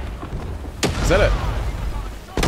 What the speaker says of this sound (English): Oh, I heard grenades.